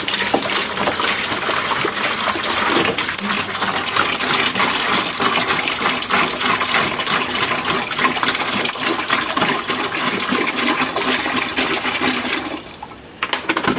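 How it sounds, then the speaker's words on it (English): Water pours steadily into a bucket during coolant servicing for a PwnCNC spindle, a continuous splashing rush that holds throughout and then cuts off abruptly near the end. "So I'm going to get this water put in here into the bucket."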